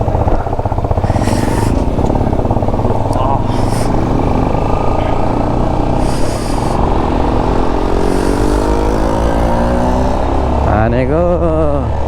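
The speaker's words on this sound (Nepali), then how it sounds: "रेस हान्ने हो एनएस र एफजेड" Motorcycles racing, a Bajaj Pulsar NS and a Yamaha FZ, engines droning loudly and continuously with rising revs and a sharp wavering rev near the end, people talking and shouting over them.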